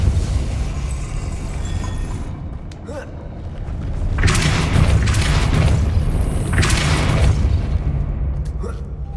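The Depulso force spell fires in Hogwarts Legacy, a deep booming blast that bursts out midway and rumbles on for a couple of seconds over lower ambient game sound.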